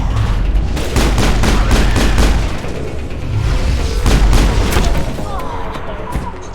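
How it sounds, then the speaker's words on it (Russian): Explosions in the Mass Effect video game: a run of loud, booming blasts and rapid crackling bursts like gunfire, rolling across several seconds with brief lulls between volleys. "Охренеть, он взрывается?"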